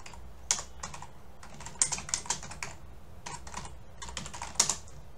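Typing on a computer keyboard while entering data into an Excel spreadsheet produces close, irregular key clicks in short bursts, with a few louder keystrokes over a low background hum.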